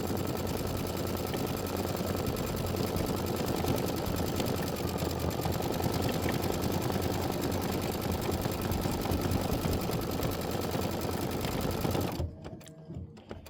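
An embroidery sewing machine stitches a poinsettia design, a loud, steady mechanical whirring chatter running without a break for about twelve seconds, then stopping abruptly.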